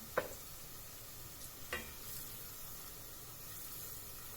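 Onions and flour sautéing in a pan for soup, a faint low sizzle with two soft utensil scrapes near the start.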